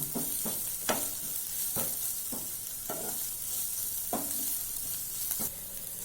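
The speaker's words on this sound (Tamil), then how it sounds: "ரெண்டு நிமிஷம் வதக்கணும்" Spicy egg masala sautés in a pan, with a spatula scraping and stirring in a regular rhythm, about once every half second, over a constant close sizzle.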